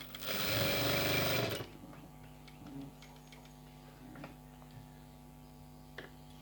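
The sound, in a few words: sewing machine stitching a blouse neck piece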